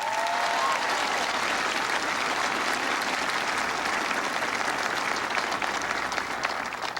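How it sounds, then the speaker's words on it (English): A large audience at a President Obama event at Fort Stewart, Georgia, bursts into sustained applause, a dense, even wash of clapping that holds steady for several seconds. "Give him a big round of applause."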